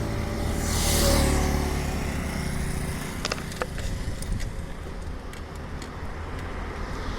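Traffic passes on a two-lane highway, Bhind Road in Gwalior: a broad roar of one vehicle sweeping by close, then a steady wash of road noise with light clicks and rattles, car and bike traffic.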